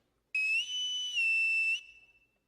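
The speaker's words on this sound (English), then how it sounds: "Everyone in this house answers to a whistle." A single loud, sustained whistle blown to summon household staff, a steady shrill tone lasting about a second and a half with a slight dip partway, then cutting off into a brief fading echo in an otherwise quiet room.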